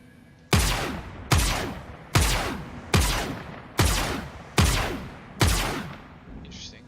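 Seven evenly spaced heavy weapon blasts fire from a Drake Caterpillar ship in Star Citizen, each a sharp loud boom with a decaying tail, close and alone with no talk.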